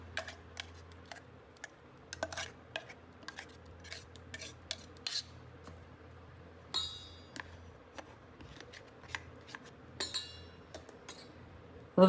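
Metal utensils clink and scrape lightly against a bowl as raw mango chutney is moved into it, a sparse run of soft close ticks and taps, with a louder knock at the very end.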